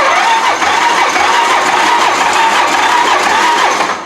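A Can-Am Quest 500 ATV engine cranks over and over without catching. The whirring is loud and steady and fades slightly at the end.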